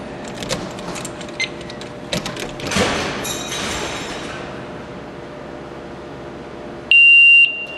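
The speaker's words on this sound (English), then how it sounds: "what will happen is that the alarm will go off, run for 30 seconds, shut down." Handling noises and clicks, then a loud, steady electronic security alarm tone starts abruptly near the end and holds.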